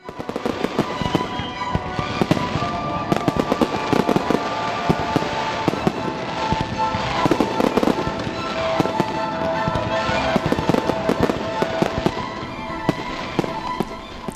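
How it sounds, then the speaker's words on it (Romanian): Spectacular fireworks display closing a celebration in Alba Iulia on 15 October, with dense, continuous crackling and popping bursts throughout, loud and sustained with no talk. "Întreaga suită de evenimente care a marcat ziua de 15 octombrie a fost încununată cu un spectaculos foc de artificii."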